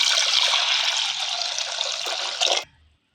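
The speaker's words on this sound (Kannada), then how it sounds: "ಈಗ ನೀರು ಹಾಕೊಂಡು ಇಟ್ಕೋತೀನಿ." Water is poured steadily and loudly onto washed split moong dal in a cooker vessel, then stops abruptly, leaving silence.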